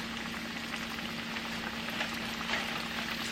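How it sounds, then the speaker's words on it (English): Floured ribs frying in hot grease give off a steady, faint sizzle and crackle, with a dense patter of small bubbling pops that holds at an even level throughout. "you're going to fry these until it's golden brown"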